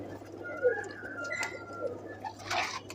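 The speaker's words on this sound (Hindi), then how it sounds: "ये इमामदीन कबूतरी देखें" A female pigeon coos softly nearby against a faint background hum, with a few scattered chirps and light noises.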